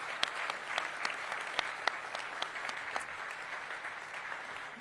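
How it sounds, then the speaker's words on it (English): An audience at a stadium announcement event applauds, a faint, fairly distant wash of scattered clapping lasting a few seconds. "Give them a round of applause."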